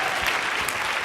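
Conference audience clapping for a speaker at a startup case-study talk, a steady wash of many hands heard from a distance, even and unbroken.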